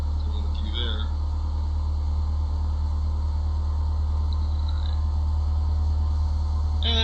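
A Cessna 172 aircraft engine idles at low RPM during its pre-takeoff run-up, a steady, loud, low drone that holds unchanged for the whole stretch with no talking over it.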